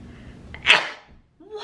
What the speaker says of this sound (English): Dude, that was a sneeze!